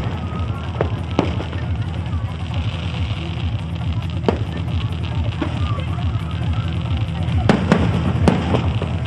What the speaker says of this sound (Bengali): সেখানে রাবণ বধ, তারই পাশে আতশবাজি প্রদর্শন।